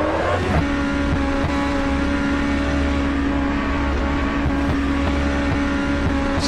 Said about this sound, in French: La F1 moteur V8. Le bruit doit pas être le même.